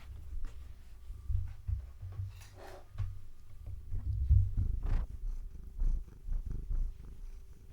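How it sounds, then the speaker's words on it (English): A cat purrs softly and close by in a quiet room, a low steady rumble with small rustles and soft licking-like clicks scattered through it. "Her purr is so quiet."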